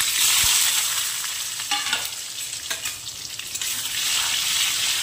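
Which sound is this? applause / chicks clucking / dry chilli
dry chilli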